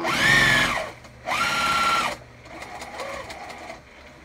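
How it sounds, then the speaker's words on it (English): A sewing machine stitches a crossbody bag in two loud, close bursts of whirring needle action, followed by a softer, lighter stretch of running. "Sew all the way around"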